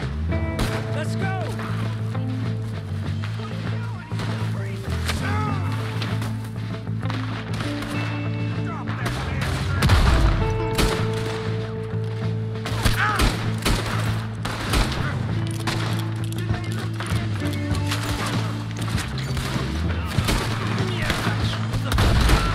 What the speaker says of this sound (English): We're gonna have to shoot our way out!